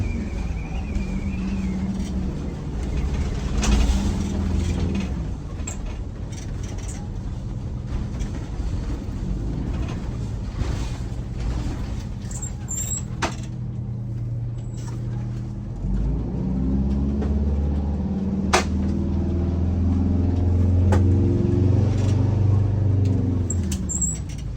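A Detroit Diesel vehicle down on power accelerates during a test drive, a low droning engine rumble that swells and strengthens toward the end, heard from inside the cab with a few faint clicks.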